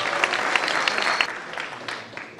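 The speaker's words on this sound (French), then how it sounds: "Merci d'applaudir Salvador Uribe." Audience applause in a table tennis club hall, as a team's technical manager and coach is introduced before a match; steady, moderately loud clapping with some sharp individual claps, fairly brief.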